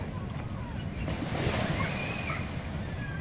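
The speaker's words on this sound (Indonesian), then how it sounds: "Sementara deburan ombak pagi itu tidak terlalu kencang ya." Gentle morning surf washes onto a beach at Kalianda, Lampung, in a continuous soft rumble of breaking waves, with some wind buffeting the microphone.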